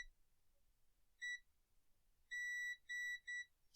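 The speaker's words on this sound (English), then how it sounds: "So now when I touch these, we have a beep." A multimeter on continuity test gives four short electronic beeps, one alone and then three in quick succession, each a clean tone in a quiet room, with no talk.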